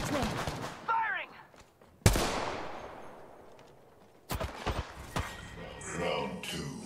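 Gunfire from the battle royale game Apex Legends: a sharp loud shot with a long decaying tail, then bursts of rapid firing later, amid game effects and scattered voices.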